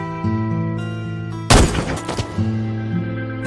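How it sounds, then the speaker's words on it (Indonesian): A sudden loud burst of gunfire cuts through a droning tonal background, followed by a few scattered thumps. "Rodolfo pun tidak sengaja tewas karena kena tembakan dari para polisi"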